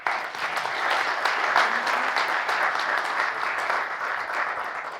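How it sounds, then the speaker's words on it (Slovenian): Audience applause for a speaker named Rok at a talk, a dense, steady round of clapping that holds for several seconds and tails off at the end. "En aplavz za Roka."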